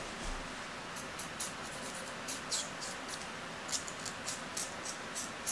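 Small, faint scissor snips cutting through the ends of synthetic curly wig hair come in an irregular series of soft close clicks over a quiet background hiss.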